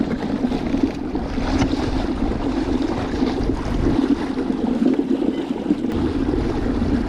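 An Old Town Sportsman Autopilot 120 kayak with its motor ramped to full speed, running over open water amid steady wind rush and lapping water, a continuous low hum underneath throughout.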